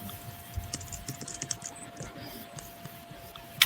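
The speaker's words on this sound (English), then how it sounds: "I can hear her typing" Someone types on a computer keyboard during an online poetry book launch, giving irregular soft clicks and taps at moderate pace over a low background hum.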